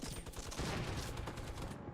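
Sustained rapid minigun fire in Fortnite, a dense continuous burst of shots running the full two seconds at steady loudness.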